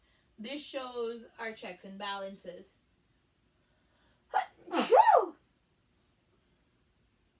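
A person sneezes once, sharp and close, after another person speaks in a quiet classroom-style recording.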